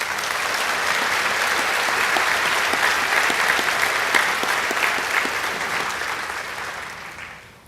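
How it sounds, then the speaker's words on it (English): Sustained applause from a large audience at a high school graduation, steady and full for several seconds before tapering off at the end. "Let's give them a round of applause,"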